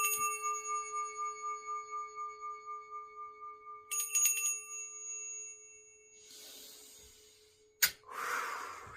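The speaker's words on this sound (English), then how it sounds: "Ring the bell." A small bell rung by hand, ringing on with a long sustained pulsing tone that slowly fades. It is struck again partway through, followed by soft rustles and a sharp click.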